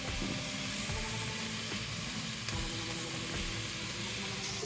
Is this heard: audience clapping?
no